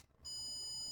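A ghost-detection device rings out a single sustained electronic beep, a steady high tone starting sharply and holding to the end, close and fairly quiet.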